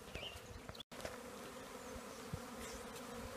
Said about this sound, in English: Wow, nice set of bees.